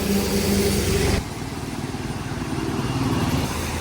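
A motorcycle engine drones steadily while riding, with a louder rumble of engine and wind for the first second, then a lower, even hum, and no voices.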